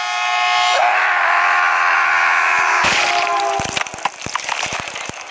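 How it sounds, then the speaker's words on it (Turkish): Scary sound effect from a phone app of a train approaching as a man screams: a loud, sustained horn-like wail holds for about three seconds, then breaks into harsh clattering, crashing bursts at close range. "Tren yaklaşıyor, adam hala bağırıyor."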